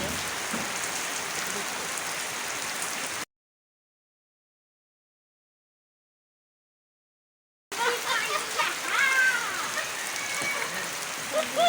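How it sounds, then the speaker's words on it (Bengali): Heavy rain pours down as a loud, dense, steady hiss of drops on surfaces. It cuts to complete silence for several seconds, then resumes just as heavy. "দেখেন কি পরিমাণ বৃষ্টি পড়তেছে।"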